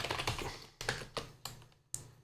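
A handful of distinct keystrokes sound on a computer keyboard, spaced irregularly over a couple of seconds, close and fairly quiet with no voice.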